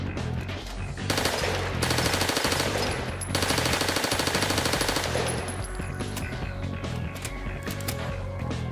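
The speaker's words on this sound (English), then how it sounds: "MonkeyDepot Thompson Submachinegun by MonkeyDepot." A Thompson submachine gun fires in Fallout 4, loud full-auto bursts in two long strings with short pauses, followed by scattered mechanical clicks and lighter clatter.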